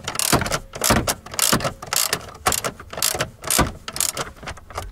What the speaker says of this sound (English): then I take my 10 millimeter socket